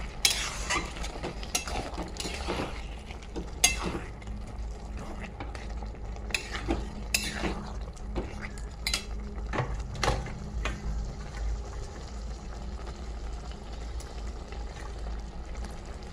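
Mango leather chutney with dates being stirred in a pan, a steady scraping and stirring with soft sizzle and occasional utensil knocks against the pan, close and continuous throughout.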